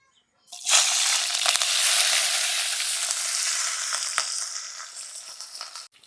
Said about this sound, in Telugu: ఇప్పుడు ఇందులోనే పచ్చిమిర్చి వెల్లుల్లి కరివేపాకు వేసుకోవాలండి